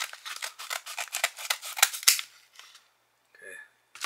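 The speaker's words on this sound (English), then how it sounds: "Might have to use some scissors on this one." Scissors snip repeatedly through a mail package, a quick run of crisp, close cutting clicks that thins out, then a couple of faint rustles and a final snip.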